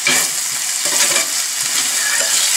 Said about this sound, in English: We're gonna cook it so all the rawness of the garlic and ginger is gone.